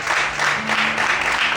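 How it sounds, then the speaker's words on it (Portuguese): A church congregation applauds the Lord, a thick, even patter of many hands clapping at moderate loudness for a brief moment, with a faint voice tone mixed in. "Aplauda o Senhor."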